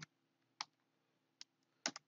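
Sparse computer keyboard keystrokes, four or five quiet sharp clicks in an irregular rhythm against a faint background hum.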